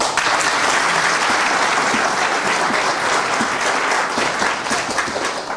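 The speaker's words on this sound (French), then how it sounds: "Je demande qu'on les applaudisse." Dense, sustained applause from a large audience at a political rally in Côte d'Ivoire, loud and continuous throughout with no speech over it.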